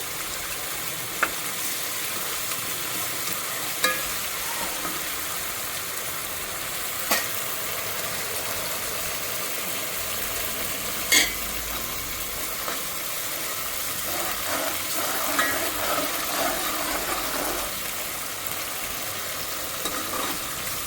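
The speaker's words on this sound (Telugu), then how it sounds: "చూడండి, ఈ పేస్ట్, ఈ గ్రీన్ పేస్ట్ మొత్తం బాగా ఫ్రై అయింది." Green paste with ginger garlic paste frying in a pan, a steady soft sizzle with a few sharp clicks of a spoon against the pan, no one speaking.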